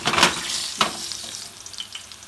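Eggplant sizzles in a frying pan, a soft hiss with a few sharper crackles and stirring scrapes, close by and fading slightly toward the end.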